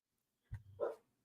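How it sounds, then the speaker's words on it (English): A single dog bark lands close by, followed by a short yelp, in a quiet room. "the dogs are going to go crazy now"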